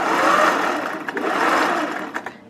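A sewing machine stitches a side gusset on a zero-waste dress in a steady, loud, close whir, dipping briefly as the fabric is repositioned, then running again before stopping; no voices.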